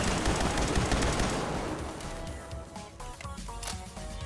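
Rapid gunfire from a weapon in Fallout 4 during a fight inside a vault, a dense, loud burst of shots that gradually thins into scattered bangs and clatter.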